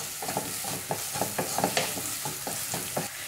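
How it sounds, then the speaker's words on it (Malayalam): Chopped onions with salt sauté in a pan for a Kerala dal curry, a steady close sizzle broken by a regular scraping rhythm as a spoon stirs, with no voices. "ഇനി സവോള നല്ലപോലെ തന്നെ ഒന്ന് വഴന്ന് വരട്ടെ"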